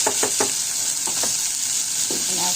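Garlic and onion sizzle steadily in a hot pan, a continuous bright frying hiss with a few scraping stirs of a utensil near the start and end, close and without speech.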